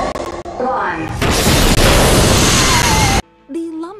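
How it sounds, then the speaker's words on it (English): A large in-game explosion from Ratchet and Clank Future: A Crack in Time, a loud roaring blast with crackling debris lasting about two seconds after a short lead-in, then cutting to near silence before a voice begins speaking. "seismoscanners picked up a large explosion in the Phylax sector."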